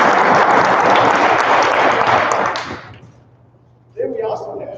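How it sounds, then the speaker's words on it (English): Loud audience applause at a Greenhand ceremony, a dense crowd clapping that fades out after about three seconds before a voice starts speaking. "Let's give him a round of applause."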